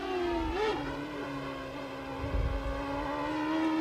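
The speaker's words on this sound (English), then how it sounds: "He's not having any problems at all on the upshifts, but listen on the downshifts here." Indycar race car at Road America in 1999, its engine wailing at high revs and dropping pitch through downshifts, one shift sounding rough, a continuous loud harmonic whine with a brief low thump.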